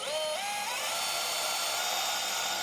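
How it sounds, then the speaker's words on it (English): A high-pitched power drill with a 1/4-inch bit whines steadily as it bores into a hard clay pot, its pitch rising at the start and then holding, with no voices. "This is a 1/4-inch drill bit, by the way"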